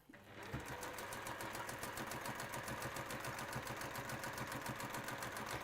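A sewing machine top stitching fabric runs in a steady, fast mechanical rattle, close and continuous for nearly the whole stretch after a brief quiet start.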